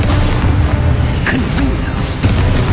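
Expulso spell explosion in the video game Hogwarts Legacy, a loud dense rumbling boom filling the whole moment with a few brief crackling bursts layered over continuous battle noise.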